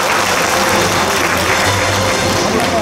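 Audience applause welcoming a newly inaugurated association president at a hometown association ceremony, loud dense clapping filling the whole moment with no break.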